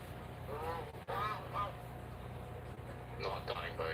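A goose in a video game gives a few brief honks, fairly quiet over a steady background hum, with a person talking in the clip.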